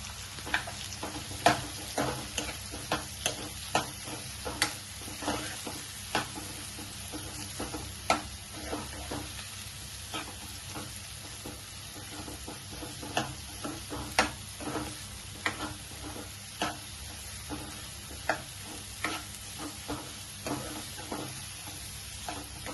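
Onions sizzling and frying in a pan for chicken keema balls, a steady close hiss under frequent sharp clicks and taps from stirring, with no talking.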